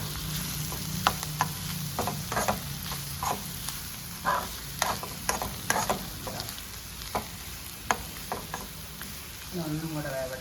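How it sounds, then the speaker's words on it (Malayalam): A spoon scrapes and stirs chili powder and ground fennel through an ivy gourd curry in a pan, with irregular clinks and scrapes over a steady low sizzle. "ഇപ്പം 3 കൂടെ നല്ലപോലെ മിക്സ് ചെയ്തിട്ട് ഒന്നും കൂടെ ഇളക്കി"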